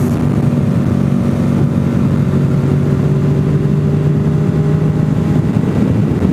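A 2014 Honda VFR Deluxe motorcycle carrying a rider and passenger hums along at a steady cruise, its engine a continuous loud, even drone mixed with rushing wind noise.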